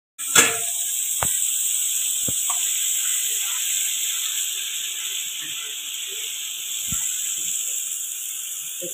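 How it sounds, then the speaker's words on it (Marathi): Cumin seeds dropped into lightly heated oil for Marwari garlic-chilli chutney, bursting into a close, steady sizzle that stays strong throughout, with a few faint clicks and taps over it. "तेल हलकस गरम झालेलं आहे, जिरे टाकलेले याच्यात।"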